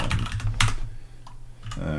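Quick bursts of computer keyboard typing with short pauses between them, close and clear, while a person talks in the background.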